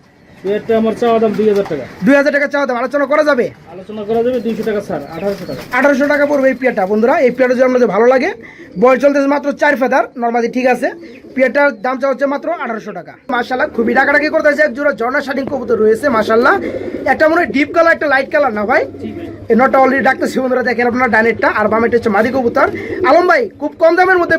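Pigeons coo over and over in soft, throaty rolling calls, close by, while someone talks almost continuously over them.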